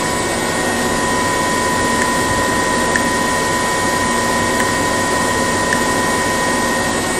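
An alternator running at reduced RPM with its cooling fan turning, under a heavy direct charging load from a lithium battery, gives a loud, steady mechanical whine and hum that holds constant without pauses.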